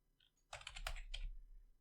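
Computer keyboard typing while entering HTML input code, a short burst of several quick clacking keystrokes at moderate distance, fairly quiet, with no talk.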